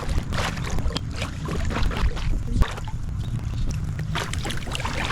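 A Primo kayak is paddled gently near the shore, the water swishing and splashing in soft, irregular strokes under a steady wash of ambient noise, close and moderately loud.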